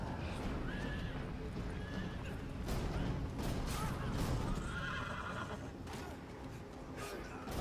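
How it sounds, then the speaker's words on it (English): A horse whinnies repeatedly in a film soundtrack, its loud neighs rising over a dense mix of hoofbeats and battle noise from the opening of 300: Rise of an Empire. "I like the horse."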